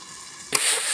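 Malabar spinach seeds fry in a wok: a muffled hiss sits under the covered lid, then a sharp clatter as the lid comes off and a bright, louder sizzle swells and holds.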